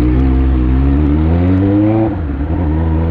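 Honda Hornet and Yamaha XJ6 motorcycles with straight-pipe exhausts revving loudly and steadily nearby, engine note rising then dropping off near the end, with no talk.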